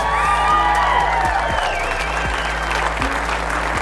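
Steady applause from a comedy show crowd fills the whole stretch, with scattered cheers and whoops mixed in over a dense, loud wash of clapping.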